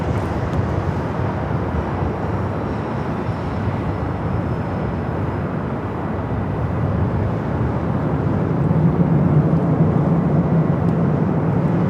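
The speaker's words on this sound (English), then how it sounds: "That would be China Eastern, flight 586, heading to Shanghai. The 777 at 300ER." China Eastern Boeing 777-300ER on its takeoff roll at LAX, a steady broadband jet roar heard from a distance that swells slightly toward the end, continuous with no talk.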